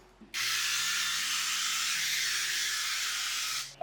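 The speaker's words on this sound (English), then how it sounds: "Let's go ahead and spray this with olive oil." A steady hiss of olive oil spray into a donut tray runs for about three seconds, close and continuous, starting and stopping abruptly.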